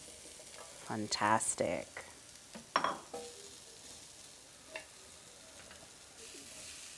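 Food frying in a pan on a stove, with a soft steady sizzle under bursts of louder clattering and stirring, and someone speaking briefly near the start.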